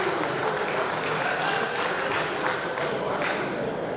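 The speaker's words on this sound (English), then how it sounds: "they deserve a round of applause." Steady audience applause fills an auditorium at a public meeting, dense, even clapping from a large crowd that stays constant throughout with no voices.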